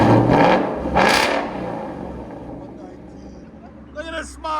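A 2015-2023 Ford Mustang GT 5.0L V8 with a cat-back exhaust gives two sharp revs at the start, then settles into a lower rumble, with people talking over it.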